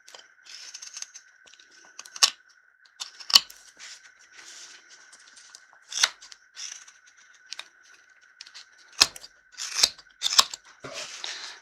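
Scissors snipping a bolo tie piece down to size, a series of crisp, separate cuts spaced irregularly apart, close and quiet against near silence.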